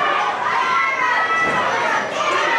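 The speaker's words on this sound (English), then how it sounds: "Crowd picking up the chant." A packed, sweltering wrestling studio crowd during a Terry Funk match roars in a dense, steady wash of shouting and chanting voices, loud and close throughout.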